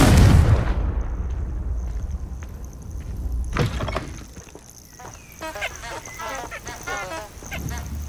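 Confringo blasting spell explosion in Hogwarts Legacy, a loud boom at the start that fades into a rumbling tail, followed by scattered honking cries and other game sounds.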